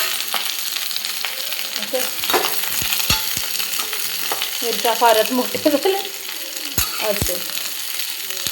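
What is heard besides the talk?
onion roasting in oil in a pan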